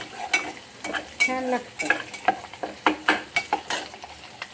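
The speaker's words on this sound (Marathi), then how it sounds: "असा मसाला भाजायचा चांगला जरा" Masala spices roasting in a pan with rhythmic scraping stirs over a soft sizzle, a string of distinct close strokes, and someone briefly speaks near the start.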